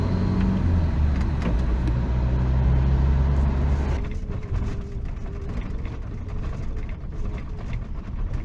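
A car travels along a road in Morocco with a steady engine drone and tonal hum at first, then shifts to a rougher, broadband rumble of tyres on the surface.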